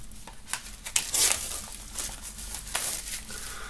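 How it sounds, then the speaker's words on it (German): A music album box set is pulled out of its plastic foil wrapping, giving crisp crinkling and rustling bursts at irregular intervals, close to the listener, with no speech. "Deswegen müssen wir wirklich nur das Album aus der Hülle holen."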